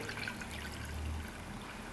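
A soft, steady trickle of water and soaked broken rice pouring, faint and close, with no voices.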